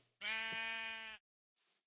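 A single sheep bleat in Minecraft, a loud, clear, sustained tonal call lasting about a second, followed by a brief faint noise.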